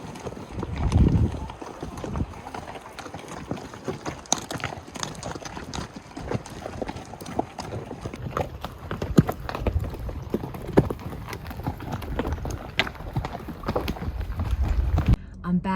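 A Mustang horse walks under a rider on a horseback trail ride, hooves clip-clopping in an uneven rhythm with occasional louder thuds, while a person talks over the steps.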